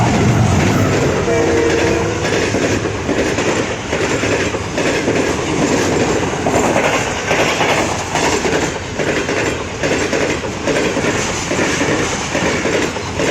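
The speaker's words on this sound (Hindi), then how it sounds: "ये 41 अप कराक्रम एक्सप्रेस यहाँ से गुज़रने वाली है।" The 41 Up Karakoram Express thunders past close by in cold weather, a loud continuous roar of wheels clattering over rail joints with a brief horn note near the start.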